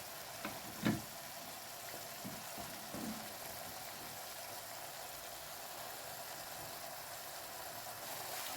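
Shrimp simmering in wine in a pan while pasta is prepared, giving a steady soft sizzle and bubble, faint and continuous, with a few light clinks of utensils early on.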